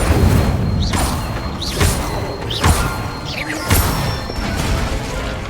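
Repeated Incendio fire spells cast in Hogwarts Legacy, each a sharp whooshing burst with a bright rising sweep, arriving roughly once a second over a steady low rumbling backdrop with no talk.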